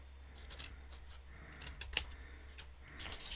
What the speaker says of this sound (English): I am going to cut up the second score line to the score line, and I am going to cut away this little rectangle here